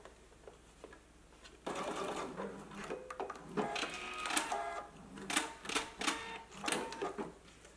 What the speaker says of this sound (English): But first, I'm going to stitch down about a quarter of an inch to it.